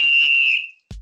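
A single sharp, sustained referee-style whistle blast marks the final whistle, shrill and close, fading out before a brief low thump at the end.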